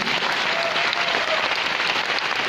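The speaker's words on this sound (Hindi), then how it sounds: "मैं चाहूँगी उनके लिए एक बार जोरदार ताली होना चाहिए" Thunderous applause fills a training event hall, a thick, unbroken roar of many hands clapping at steady volume throughout.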